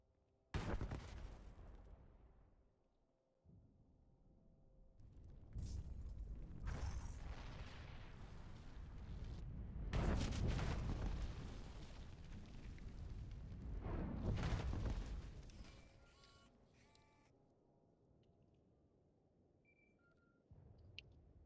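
Explosions in Star Wars: The Old Republic roll through as several long rumbling blasts with creaking debris, swelling and fading over about twenty seconds, heavy low boom throughout.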